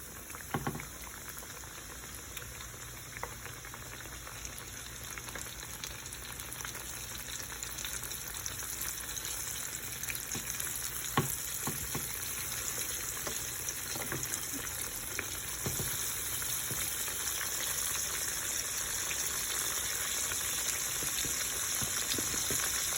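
A pork chop fries steadily in oil in a skillet, a continuous bubbling sizzle with small crackles that holds at an even level throughout, no talking.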